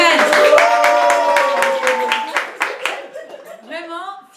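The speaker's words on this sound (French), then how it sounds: "je m'arrête une seconde pour applaudir Caroline qui a acheté des mezuzot cette semaine" Rapid hand claps applauding someone ring out over voices speaking and calling out with pitched tones, and the clapping fades as a voice carries on alone near the end.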